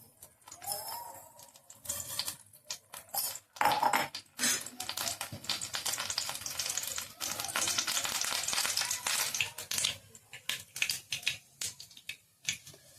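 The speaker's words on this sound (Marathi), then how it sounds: "तेल गरम झालं तर राई टाकली." Mustard seeds dropped into hot oil for an amti crackle and pop close by in dense, irregular bursts, swelling into a busy sputter before thinning out into scattered snaps.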